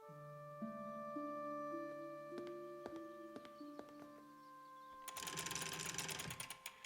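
An old crank handle lowers a candelabra in Broken Sword 5, heard as a run of rapid ratcheting clicks near the end over soft, sustained tonal music.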